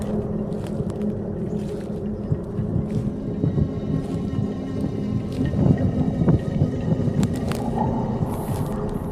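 Rain falls steadily with low rumbles that could be distant thunder, a dense, constant wash of sound with no talking.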